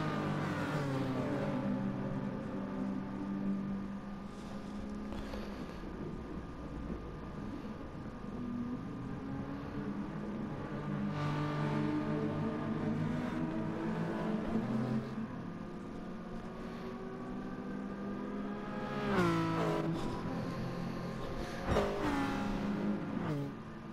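A tight pack of five race cars, GT86s among them, runs nose to tail in a racing video game. Their layered engine drones rise and fall in pitch, with a sharper burst of revving near the end and no voices.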